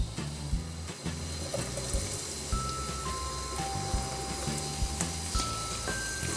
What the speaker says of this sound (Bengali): তেলটা গরম হয়ে গেছে, এবার তাতে দিয়ে দিব পেঁয়াজ কুচিগুলো